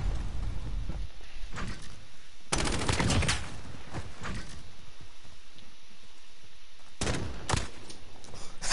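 Gunfire in a video game, with bursts of rapid automatic shots coming in two loud clusters separated by quieter stretches of background game noise. No one talks.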